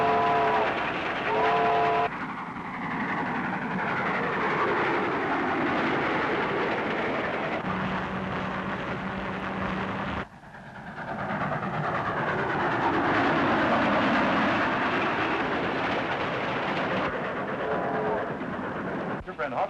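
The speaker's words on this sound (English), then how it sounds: "I fired the engine on this run all last summer with old Dad Hopkins as engineer, too." A steam train from the 1930s runs steadily with a rumbling engine and rolling wheels, and its whistle sounds briefly near the start. People talk over the train noise.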